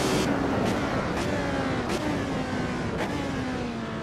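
Lotus 72 Formula One race car in the Assetto Corsa racing game, its engine droning loud and steady with pitch sweeping down through long gears and brief gaps at each upshift, no voices.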